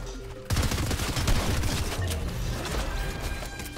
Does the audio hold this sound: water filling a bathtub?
no